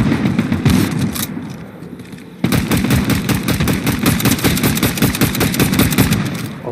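Rapid automatic gunfire in the Fortnite video game rattles in dense, loud bursts, briefly easing before a heavier volley of sustained shots resumes.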